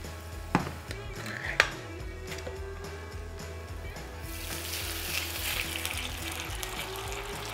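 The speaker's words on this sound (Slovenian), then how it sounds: "Česen popražimo." Garlic sizzling in a hot pan, a steady frying hiss that thickens partway through, with a couple of sharp clinks of utensils early on and quiet background room noise.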